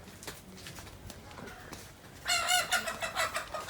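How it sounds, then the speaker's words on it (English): A large cockerel at a jungle-side hotel in Goa, India, giving a loud, close, harsh crowing call after some softer scratchy background clucks and rustling. "Got a big ass cockerel"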